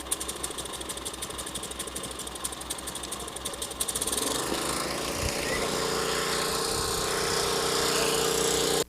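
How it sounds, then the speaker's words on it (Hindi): A Honda engine-powered rail drilling machine at a train accident site sputters with rapid mechanical ticking, then starts and settles into a loud, steady running drone. "अपना वो जो उपकरण है होंडा जो है उसे वो स्टार्ट कर रहे हैं"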